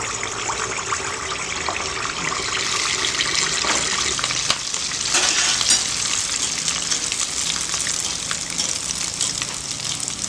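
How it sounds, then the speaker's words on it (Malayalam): Spoonfuls of rice batter for Malabar kunji kalathappam fry in hot oil, a steady, close bubbling sizzle with a few louder surges, continuing throughout without speech. "എണ്ണയ്ക്കകത്തോട്ട് ഓരോ സ്പൂൺ വെച്ച് ഒഴിച്ചു കൊടുക്കാം"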